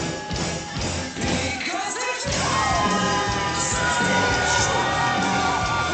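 Wrestling crowd roars and cheers with yells and whoops for Danny Orion, loud and sustained, with a thud from the ring partway through.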